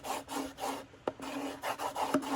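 A bone folder burnishes paper wrapped on a cardboard tube, quiet rhythmic rubbing strokes in repeated back-and-forth passes, with one sharper tap partway through.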